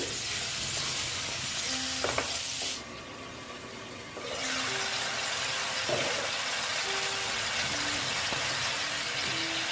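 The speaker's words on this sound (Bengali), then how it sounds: "আমি দেখো মশলাটা কষিয়ে নিচ্ছি" Spice paste for a fish curry is sautéed in a pan, giving a steady close sizzling hiss that briefly drops away for a second or so before resuming, with light stirring sounds.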